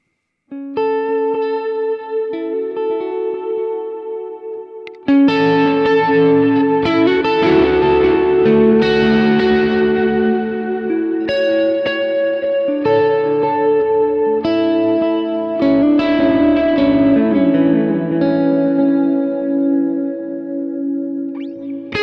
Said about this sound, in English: Now I'll check a boost and see how that sounds.